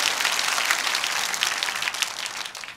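Applause from a crowd at a Korean political rally for the Liberty Village movement, a steady dense wash of clapping sustained throughout without speech.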